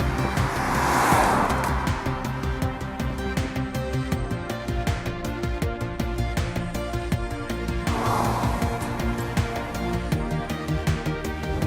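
A 2015 Mazda 3 with a 2-litre engine drives along, its steady road and engine drone continuous throughout with no talking.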